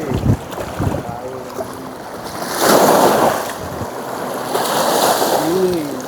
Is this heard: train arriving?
no